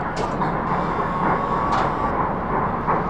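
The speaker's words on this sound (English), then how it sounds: "I made propulsion sounds for the R179" An R179 New York City subway train on the A line runs in the OpenBVE train simulator, giving a loud, steady rumble with propulsion whine and faint rhythmic clatter, no speech.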